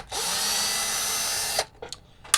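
Screws come out of a Nintendo NES console shell with a steady, close whine from a powered driver for about a second and a half, then a few quick, light clicks and taps.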